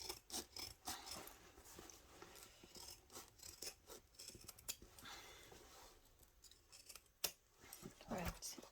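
Scissors snipping through bag-making fabric in quick, irregular cuts, each a faint close click and rasp, with short pauses between bursts.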